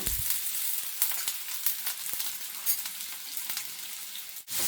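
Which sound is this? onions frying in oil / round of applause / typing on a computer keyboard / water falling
onions frying in oil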